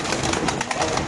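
Lahori pigeons cooing in a loft, several soft repeated coos overlapping close by throughout the short moment.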